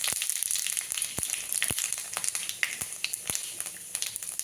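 A bay leaf, dried chilies and panch phoron spluttering in hot oil: a continuous close sizzle broken by sharp pops and crackles at irregular intervals.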